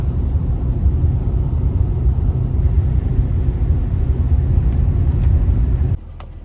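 Interior engine and road rumble of a car on a curvy mountain road along Idaho's Salmon River Scenic Byway, a loud, steady low drone that drops abruptly near the end.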